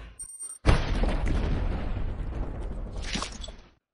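A film explosion at a tomb: a sudden loud blast after a brief quiet moment, followed by a long rumbling roar that slowly fades away, with a faint whoosh near the end.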